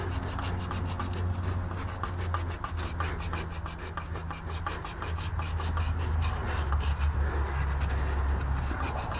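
Scotch-Brite scrubs rust off the cam position sensor on a Dodge Dakota/Durango, a rapid, continuous rasping rub close up with a steady rhythm over a low engine-bay hum, without talking.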